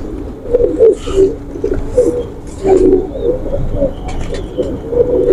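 A Hera Lal pigeon coos in repeated low rolling phrases, close and loud, with a few faint rustles and background sounds between the coos.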